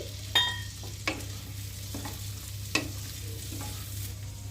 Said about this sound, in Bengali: এবার বাটার আর তেলের সাথে ভালোভাবে ভেজে নিচ্ছি।